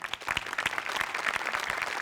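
A studio audience at a Marathi comedy show claps in a brief, dense burst of applause, even and sustained from start to finish.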